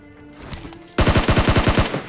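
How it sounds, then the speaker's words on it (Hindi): Gunfire in a shooter video game: after a quieter lead-in, a loud, rapid automatic burst of about ten evenly spaced shots cracks out close and punchy, with no talking. "और मैंने उसको फायर करने की कोशिश भी करी लेकिन वो बच गया।"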